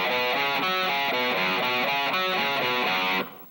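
Low seven-string electric guitar riff, alternating fretted notes and the open string in a steady, rhythmic back-and-forth pattern, distorted and close, with no voices until it abruptly ends.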